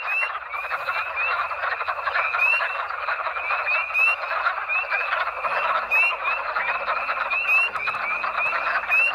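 Wood frogs croak in a thick, unbroken chorus, countless overlapping duck-like clucks from many nearby frogs.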